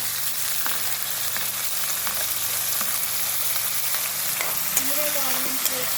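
Onions frying hard in a pan for tomato curry, a continuous loud sizzle with occasional clicks of stirring and a faint tone near the end.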